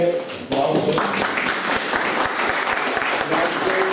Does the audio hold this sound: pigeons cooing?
no